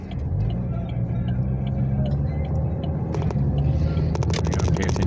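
A car merging onto the I-17 freeway in Phoenix late at night, with steady low engine and road rumble throughout, rising slightly as it accelerates, with faint ticking near the end.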